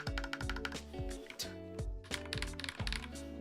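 Mechanical 65% keyboard with Glorious Panda switches, modded for a deeper tone, typed on up close in an even rhythm of distinct clacks, roughly two or three keystrokes per second, heard alone.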